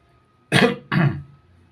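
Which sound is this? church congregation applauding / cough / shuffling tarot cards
cough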